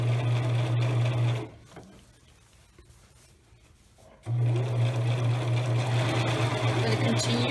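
Sewing machine stitching napkin fabric, a close, steady mechanical hum with a rapid needle rhythm that stops for a few seconds of quiet and then starts again.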